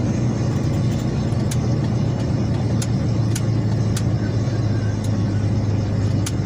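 A car engine drones steadily throughout while driving up a mountain road to Chiang Dao, a constant low rumble with road noise and no talk.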